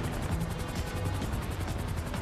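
Rhythmic thudding rotor chop of a helicopter in GTA Online, loud and continuous, with a rumbling engine drone filling the background.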